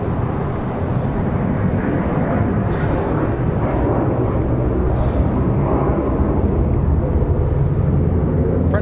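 Frontier Airlines A321neo jet at Raleigh-Durham airport preparing for departure, a loud continuous engine roar and rumble that holds steady throughout.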